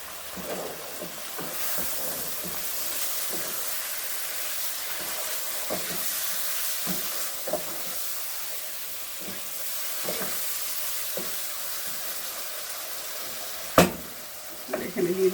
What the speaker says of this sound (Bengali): এখানে এখন টমেটো দেবো কিছুক্ষণ নেড়ে।